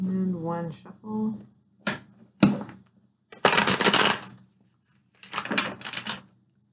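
Tarot cards being shuffled close up in bursts of crisp riffling and flicking, several separate shuffles with pauses between, and a few spoken words at the start.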